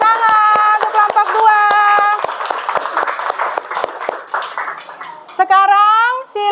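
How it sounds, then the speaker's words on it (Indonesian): A classroom of students claps to applaud a group that has just finished its presentation, a dense burst of hand claps under steady overlapping talk and children's voices, thinning out toward the end. "Oke, kasih tepuk tangan untuk kelompok"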